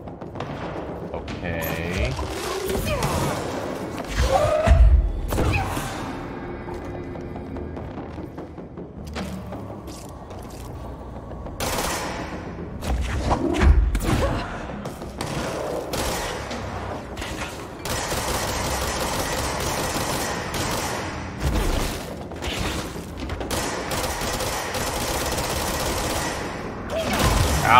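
Enemies in the Control video game fire at the player in rapid, rattling bursts mixed with mechanical clanks and game music, loud and sustained, with a voice talking briefly.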